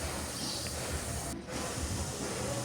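A steady, even hiss of water boiling with eggplant continues throughout, fairly close and uninterrupted, with no voices.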